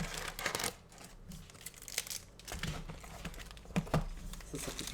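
Crinkly plastic Yu-Gi-Oh booster pack wrappers being torn and handled up close, out of a 36-pack box: soft bursts of crumpling and ripping, quiet and irregular.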